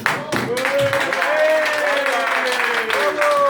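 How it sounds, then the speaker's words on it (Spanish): Audience applause during a live show in Spain, a steady wash of clapping that runs the whole time under a loud voice speaking over it. "Un fuerte aplauso para con las naves, por favor."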